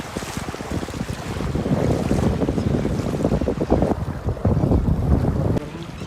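Floodwater rushes through a village in a steady loud roar of flowing water, heavy with wind buffeting on the microphone, with no voices.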